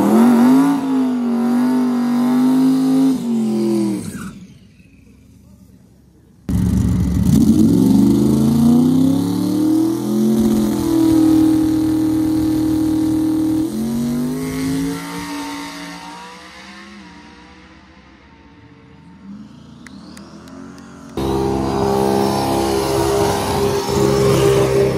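Drag race car at Bristol Motor Speedway launching and accelerating hard down the strip, the engine howling up through rising gear pulls with short gaps between them, loud and close, then fading with distance before another car roars in.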